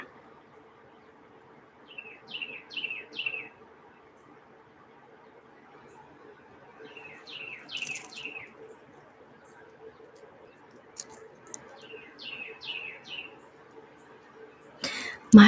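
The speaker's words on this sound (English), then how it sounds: "You could probably hear that bird in Australia without my microphone on." Loud bird song close by: three bursts of rapid, bright chirping notes at regular intervals over a soft background hum, with a brief cough-like noise near the end and no speech.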